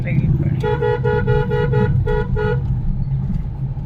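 Car horns toot in a rapid run of short repeated blasts amid a traffic jam, loud and close, with engine rumble and a voice underneath.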